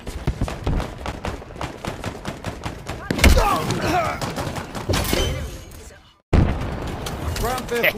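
Rapid gunfire and explosive blasts from Halo Infinite multiplayer rattle loudly with dense overlapping shots. The firing cuts out for a brief silent gap near the end, then resumes, with players talking throughout.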